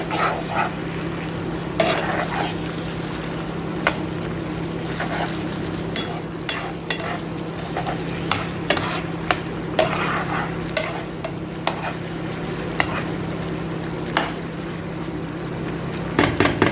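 Chicken frying in a pan, a steady sizzle under repeated scraping and stirring strokes, with sharp utensil knocks against the pan scattered through and a low hum beneath.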